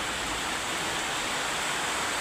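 A heavy downpour hisses in a steady, unbroken roar close by, with water running into a house; the loud wash holds constant from start to finish without any talking.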